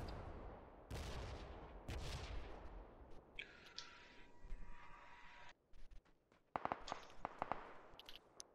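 A 5.56 gun fires in a video game: sharp, loud single shots ring out near the start, then scattered bursts and quick pops follow. A mechanical whir sounds in the middle, with no talk.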